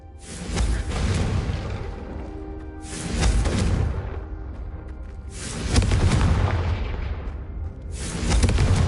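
Fiery Confringo spell blasts in Hogwarts Legacy go off as roughly four loud, booming bursts at regular intervals, each swelling with a crackling whoosh and rumbling tail; no one talks.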